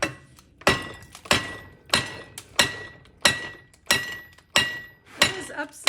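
Hammer blows on steel gripped in vise jaws while upsetting stock for forging a horse head: about eight sharp, ringing metallic strikes in a steady rhythm, loud and close, each decaying before the next.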